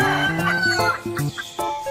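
A chicken clucks in a quick run of short, close, fairly loud calls, heard on its own without any talking.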